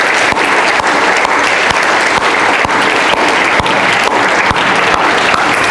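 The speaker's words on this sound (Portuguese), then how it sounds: "Quantos podem dar um aplauso a Deus por isso?" A church congregation claps in praise to God, a dense, loud and continuous burst of many hands with a few sharper individual claps standing out, sustained without pause.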